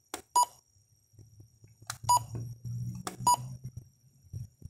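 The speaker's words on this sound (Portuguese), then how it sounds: "Pode desabilitar o bip aqui." Three short electronic beeps from a Pioneer DVH-7380AV car radio's buttons at about one-second intervals, each a bright chirp, with a low hum and faint rumble between them.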